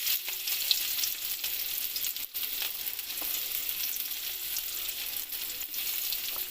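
Onion and garlic frying in oil in a pan, a steady, close hiss and sizzle that holds throughout with faint crackles and no talk.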